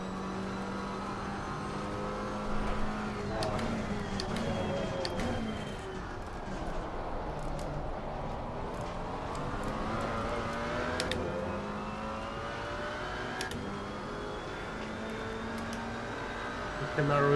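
McLaren 570S GT4 engine in Assetto Corsa Competizione at Circuit of the Americas, a steady, continuous in-car drone with pitch rising and falling through gear changes across the whole stretch.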